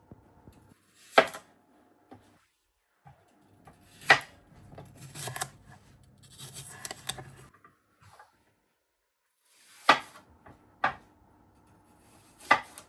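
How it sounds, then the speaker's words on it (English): Several sharp knife chops dicing a cooking apple on a board, spaced irregularly, with quiet rustling and handling sounds between them. "I'm going to grab this apple here, our cooking apple, and I've got the knife here ready to dice"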